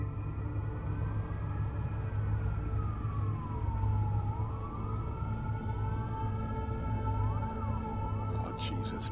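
Police sirens in the video game Watch Dogs wail in slow rising and falling sweeps over a low rumbling engine drone, with a brief burst of sharper sound near the end.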